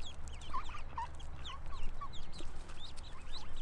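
A duck nibbling and making soft clucking, quacking calls, close by and repeated over steady low background noise, with no talking.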